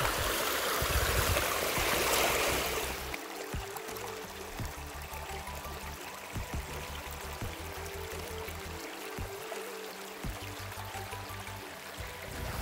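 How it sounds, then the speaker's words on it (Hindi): Water rushes steadily into a shallow, dried-up village river where pits have been dug, loudest for the first few seconds and then settling into a continuous, nearby stream-like flow. "यहाँ से देखिए पानी आ रहा है।"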